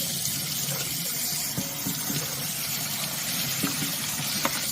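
Tap water runs steadily over meat being rinsed in a kitchen sink, a constant splashing gush with small knocks, close and unbroken throughout.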